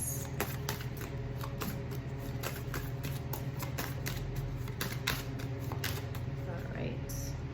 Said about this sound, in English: Do a shuffle.